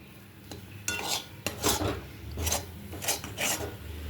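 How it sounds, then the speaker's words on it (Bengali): Taro paste (kochu bata) is stirred in a pan, giving rhythmic rasping scrapes of a spatula against the metal, about six strokes close up, with a faint sizzle beneath and no voices. "ব্যাস, নাড়াচাড়া করে নিই আর একটু, তাহলেই হয়ে যাবে।"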